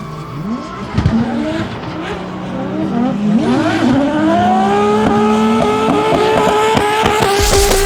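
A Nissan S13 drift car with a 2JZ engine at a D1NZ drifting round at Manfeild screeches its tyres in a long, loud squeal while the engine revs up and down, close and continuous.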